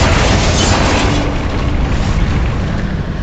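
A Confringo fire spell explodes in the Hogwarts Legacy video game, a loud, dense booming roar that stays heavy and rumbling for about three seconds with no voices over it.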